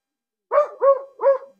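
A dog lets out three quick, fairly close barks in a steady rhythm, each a short hoarse yelp, against an otherwise silent background.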